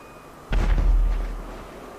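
A plane explodes in GTA 5, a sudden loud boom with a deep rumbling roar that hits hard and then decays over about a second, standing alone without talk.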